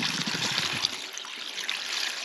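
Cleaning liquid pours steadily onto farm sprayer parts, a close, continuous splashing trickle with no talk.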